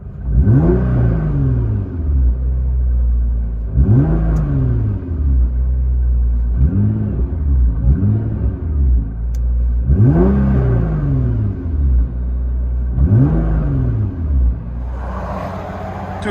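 Heard from inside the cabin, a 2013 Nissan GT-R 3.8L twin-turbo V6 with Boost Theory cat-back exhaust revs repeatedly, about seven rising-and-falling blips over a steady low rumble, some in quick pairs, with no talking.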